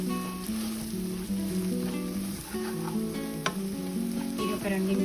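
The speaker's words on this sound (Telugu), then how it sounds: "బాగా లో ఫ్లేమ్లో పెట్టుకొని మనకి ఆయిల్లో ఫ్రై అవ్వాలి" Ground coriander, chilli powder and other spices frying in oil over a low flame for Mysore mutton fry, giving a steady close sizzle with a sustained hum running underneath and a brief clink partway through.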